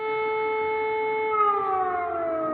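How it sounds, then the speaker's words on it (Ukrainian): Air raid siren wailing in Engels, Russia, a steady sustained tone with layered harmonics that begins to slide downward in pitch partway through, loud and continuous with no speech. "І ввечері у Енгельсі знову лунала повітряна тривога"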